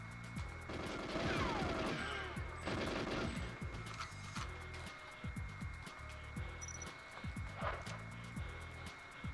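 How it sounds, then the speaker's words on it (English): Machine-gun fire aimed at the player in GoldenEye: rapid bursts of shots, loudest early, then scattered quieter shots and impacts, with no talking over them. "Whoa! Who's shooting at me?"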